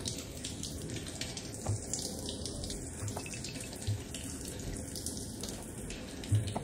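Shower water spraying in the VR game Border Bots, a soft, even rush of running water with faint droplet splashes and a few quiet thumps, fairly distant and low in level.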